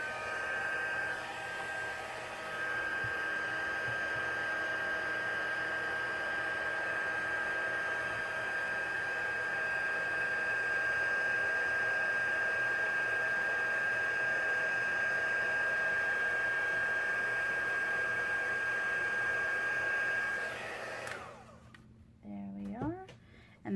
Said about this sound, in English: let's emboss this. Our embossing tool, set it at level 2